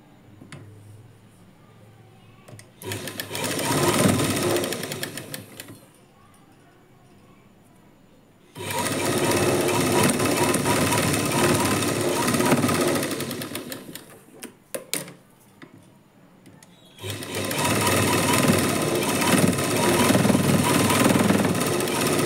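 Domestic sewing machine running in three sustained bursts as it stitches a lining onto the wrong side of blouse fabric, each burst a dense steady whir with brief pauses between.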